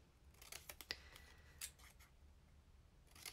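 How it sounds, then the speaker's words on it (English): Scissors snip into the corners of a piece of paper, a quick series of crisp, close cuts in an irregular rhythm, then a pause and one more snip, with no talking over them. "I just cut in to the corners"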